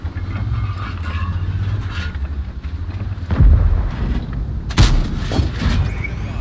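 A tank cannon firing in a tank video game: two heavy, booming blasts a second or so apart over a steady low engine rumble, close and loud.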